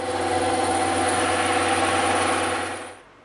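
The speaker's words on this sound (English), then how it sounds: "we're gonna make these two cuts on the bandsaw" A bandsaw slices through a thick piece of EVA foam with a steady motor hum and a dense, even whirring buzz for a few seconds. The sound then winds down and fades as the blade coasts to a stop.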